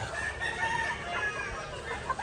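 Young gamecock stags crow raggedly over a busy background of clucking fowl including turkeys, the calls overlapping and fairly close.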